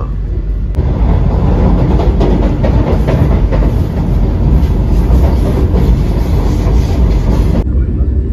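A Vande Bharat train passing the Mahanagari Express at Igatpuri station gives a loud, steady rail rumble with clickety-clack, starting abruptly and cutting off near the end, with no voices.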